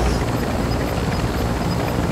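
A video-game helicopter drones in a steady, loud rotor thrum for about two seconds, close and uninterrupted, with no speech over it.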